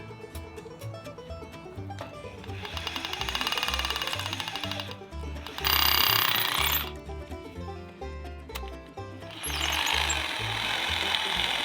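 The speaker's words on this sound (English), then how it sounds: "drilled them out with the hammer drill" A hammer drill chattering in bursts as it drills concrete block, loud grinding pulses that start and stop several times, with a rapid rhythmic hammering underneath.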